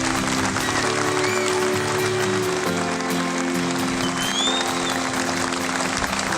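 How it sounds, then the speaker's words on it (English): Audience applause at an evening charity event, steady broadband clapping throughout with a sustained musical tone and faint whistles running underneath. "Keep that applause going, ladies and gents."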